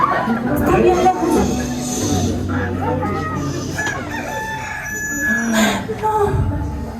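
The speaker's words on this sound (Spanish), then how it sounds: "creí oír un gallo." A distant rooster crows at dawn, faint and far off beneath ongoing people talking nearby, with several voices overlapping throughout.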